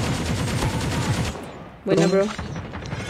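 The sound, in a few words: gunfire in the video game Call of Duty Mobile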